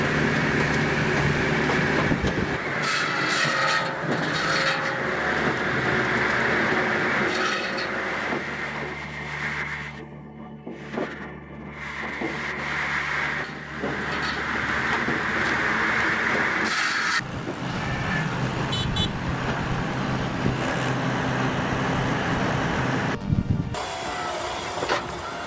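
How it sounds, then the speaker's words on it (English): A Timberwolf Alpha 6 firewood processor works through massive logs, with a loud, continuous mechanical roar and hum broken by heavier clunks and a brief drop in the noise midway, close and without speech. "The Timberwolf Alpha 6 takes massive logs and turns them into clean, consistent firewood."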